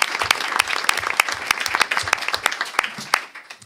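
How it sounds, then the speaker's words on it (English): Audience applause for parent organizations at a school district meeting, a dense burst of many hands clapping with sharp individual claps standing out, steady and fairly loud throughout. "So round of applause for all of our parent organizations"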